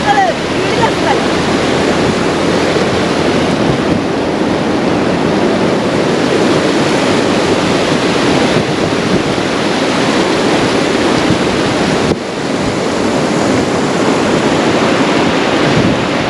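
Water flows and foams between rocks in Ladakh, making a loud, steady, close rushing roar that fills the whole stretch without pause.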